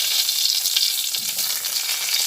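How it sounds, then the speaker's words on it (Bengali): Black mustard seeds and a bay leaf broken in two sizzle in hot oil for tempering, a close, bright hiss with scattered little crackles and pops running continuously. "ফোড়নের জন্য কিছুটা কালো সর্ষে দিয়ে দিলাম এক এক করে একটা তেজপাতা আমি দুটো খণ্ড করে দিয়ে দিলাম"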